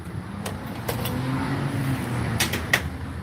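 A car nearby accelerates hard with a sustained, growing engine rumble, punctuated by a few sharp clicks and knocks. No one speaks.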